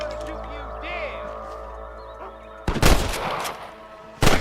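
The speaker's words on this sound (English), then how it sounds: "I can hear more gunshots." Tonal game music and a sliding whistle-like sound give way to two loud, sharp bursts of gunfire, the second near the end.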